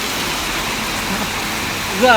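Heavy, unbroken rain pours down around a roadside chicken stall, a dense, steady hiss that stays constant until a voice cuts in at the very end.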